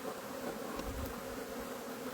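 Honey bees buzz steadily during the transfer of a large hive into a small nuc, a close, continuous insect drone with no talking, ending in a brief louder bump.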